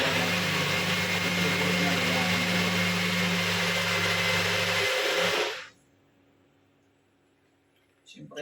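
A bullet blender whirs loudly and steadily as it blends a strawberry smoothie, holding a constant motor drone for about five seconds before cutting off abruptly, followed by near silence and a faint rustle at the end.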